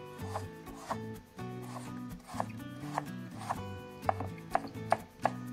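Knife cutting a peeled carrot into diamond-shaped slices on a board, giving a series of crisp chopping taps that come faster toward the end, heard close over a steady background hum.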